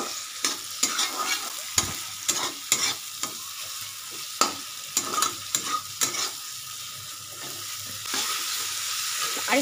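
Tomatoes sauté in spice masala in oil over a raised gas flame for a vegetarian potato and green pea curry, a steady bright sizzle punctuated by irregular sharp stirring scrapes and knocks of a spoon on the pan.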